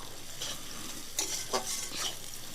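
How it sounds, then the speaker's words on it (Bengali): A spoon or spatula stirs lightly frying onions with salt in a pan while cooking a chicken kala bhuna. Soft sizzling is broken by a few quick scraping strokes, quiet and close, with no talk. "পরিমাণ মতো লবণ দিয়ে ভালোভাবে নাড়ি ছাড়িয়ে নেব"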